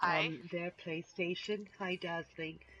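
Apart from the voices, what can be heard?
None of the usual background noises is heard.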